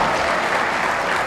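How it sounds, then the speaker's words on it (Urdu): Audience applause at an All India Mushaira poetry gathering at C Abdul Hakeem College, a dense, steady burst of clapping from a large crowd filling the whole moment, with no voices heard. "پرزور انداز میں تالیاں بجا کر استقبال کریں"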